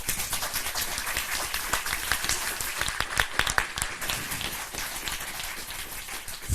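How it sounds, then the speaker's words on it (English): A lecture audience breaks into steady, dense applause after a speech, many hands clapping together at an even level throughout, with no voices standing out. "Can we give a round of applause?"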